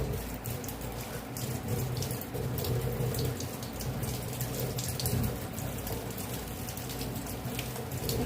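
Fish pieces for frying are washed a second time under a running kitchen tap, a steady close hiss of flowing water and splashing in the sink that continues without a break throughout.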